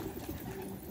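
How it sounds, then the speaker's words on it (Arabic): Pigeon or dove cooing softly in a low, steady murmur outdoors during a bird-hunting outing, faint and continuous across the short moment with no talk. "هاي حمامه"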